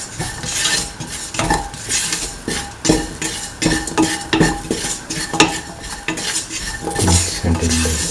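Spices and ingredients for a potato, soy chunk and coconut milk rice being sautéed in a pan, with loud repeated scraping and clanking of a spoon against metal over a continuous sizzle, close up and without talk.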